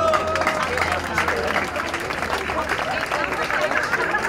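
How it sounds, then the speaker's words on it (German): Audience applause at an outdoor country night event on a riverside quay in Mauthausen, a steady wash of clapping mixed with crowd murmur and cheering, fairly loud and continuous throughout. "Und jetzt einmal einen Applaus einfach nur für euch."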